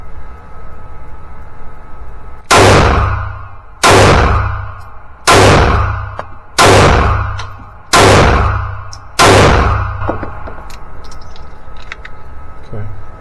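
A compact EDC pistol fires at a range: six loud, sharp shots spaced evenly about a second and a half apart, each ringing out briefly over a quiet background hum.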